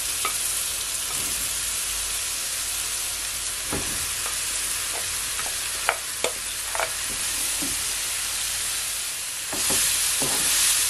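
Mushrooms stir-frying in a pan for a vegan curry, giving a steady close sizzle broken by several short scraping clicks from stirring.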